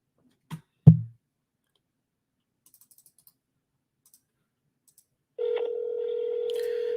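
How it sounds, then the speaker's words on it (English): A telephone gets a couple of handset clicks and a few faint beeps while being dialed, then a steady ringing tone sounds on the line, near and clear. "So let me dial it, see if it rings"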